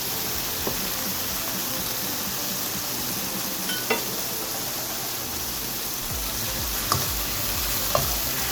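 Chicken mince cooking in a pan, a soft, even sizzle and hiss running throughout with a few faint clicks of stirring, no talking.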